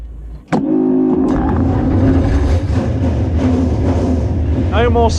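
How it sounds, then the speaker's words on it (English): Euro NASCAR race car engines crank to life together after a brief quiet moment and settle into a loud, sustained rumbling roar with revs rising and falling, and a short whining squeal close to the end. "Drivers, start your engines."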